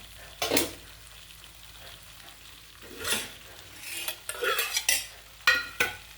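Chili powder stirs and sizzles in hot oil as boiled asafoetida liquid goes in, with irregular bursts of spoon-scraping and frying crackle rising and falling close by, with no voices.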